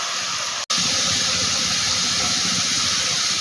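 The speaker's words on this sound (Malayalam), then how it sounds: "ഉള്ളി ഫ്രൈ ആയി വരുന്നുണ്ട് ഇനി കുറച്ച് നേരം കൂടെ നമുക്ക് ഇതേപോലെ ഇട്ടിട്ട് ശരിക്കും ഫ്രൈ ആകുമ്പോൾ നമുക്കിത് എടുത്ത് മാറ്റാം" Sliced onions deep-frying in hot oil for chicken biryani produce a loud, dense, unbroken hiss with one abrupt split-second dropout near the start, and no speech.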